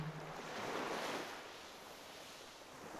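Sea waves wash in a soft, faint broadband rush, swelling once early then settling into a steady quiet hiss, no voices.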